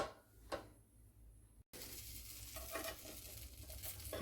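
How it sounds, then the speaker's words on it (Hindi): Eggs and tomatoes frying in butter in a pan for a healthy breakfast, a quiet soft sizzle with a sharp tap near the start and a brief dropout before the sizzling resumes, slightly stronger. "उसी बटर में हम अंडे को डालेंगे, टमाटर को डालेंगे"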